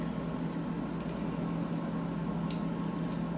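A spoon folding a moist cornbread dressing mixture, producing soft wet squishes and sticky clicks over a steady low hum, close and continuous with a couple of sharper scrapes.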